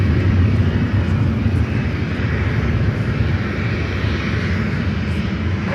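A Delta Airlines airliner arriving from Atlanta roars steadily overhead, a broad, loud engine rumble with a low-frequency drone holding for several seconds without a break.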